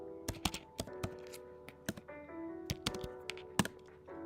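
Typing code in Common Lisp on a computer keyboard: irregular bursts of crisp key clicks and a few heavier thunks, close and fairly quiet, with no talking.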